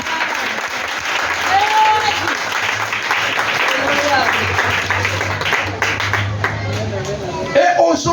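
A church congregation applauds and cheers Jesus, loud sustained clapping and crowd noise filling the room, with a steady low drone and voices mixed in.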